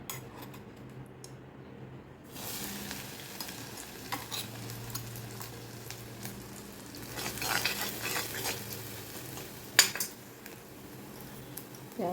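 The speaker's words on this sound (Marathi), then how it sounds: "आता कारल्याची भाजी फोडणीला टाकते" Bitter gourd being stirred and fried in a spiced tempering with ground paste, a steady soft sizzle with intermittent scraping and clinking of a spoon against the pan, close and alone without talk.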